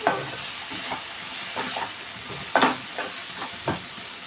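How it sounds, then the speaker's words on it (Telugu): Tomato rasam bubbling and simmering in a pot on a home stove, a soft steady sizzle broken by a few louder pops and stirring scrapes, close and alone with no talk. "ఇదిగోండి టమాటా రసం ఇక్కడ మరుగుతుంది"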